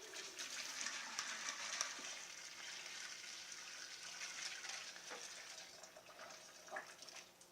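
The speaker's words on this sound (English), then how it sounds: "we'll see if we can pour our soup into this apparatus" Chicken soup poured through a strainer into a catch bowl: a steady splashing, gushing pour of liquid, close and continuous for several seconds, with a few louder splashes near the end.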